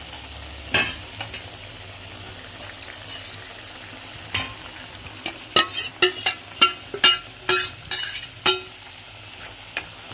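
A ladle stirs a pot of mango, drumstick and jackfruit-seed sambar with repeated scraping clinks against the metal, the strokes growing quicker and more regular toward the end over a faint bubbling hiss.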